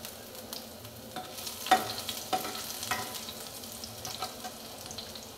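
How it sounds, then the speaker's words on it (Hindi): Chopped garlic sizzles and fries in a pan for a Hindi palak kofta recipe, with a soft steady crackle and a few stirring scrapes, close but fairly quiet, with no talking. "ये लहसुन भुन रहा है।"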